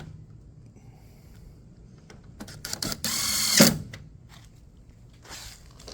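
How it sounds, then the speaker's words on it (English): Screws are driven back into the dispenser tray of an LG washer: a brief, close burst of driver whirring under a second long, surrounded by scattered soft clicks and handling noises in a quiet room. "Put your screws that hold the dispenser tray back in place."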